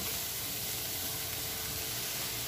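A large onion sliced into rings fries in a pan where steaks were just cooked, giving a steady, soft, continuous sizzle and hiss with no talk.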